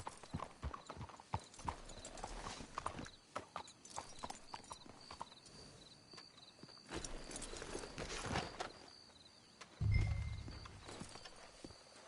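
Steady clip-clop of horse hooves walking at an even pace in the video game Red Dead Redemption 2, with creaking and rustling around them and a low thump near the end.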